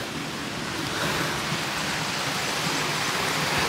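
Clear spring water flows steadily at Riverston, Sri Lanka, a continuous broadband rush close by with no talking over it.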